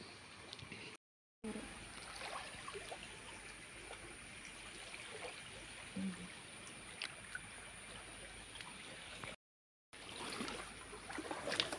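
Small stream at a local mini waterfall, water trickling over stones in a steady, soft broadband wash that runs continuously, fairly close, with no voices.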